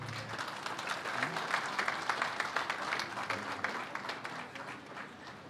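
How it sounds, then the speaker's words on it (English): A crowd applauds steadily at a police retirement ceremony, a dense patter of many hands clapping, moderately distant and sustained throughout. "A warm applause, please."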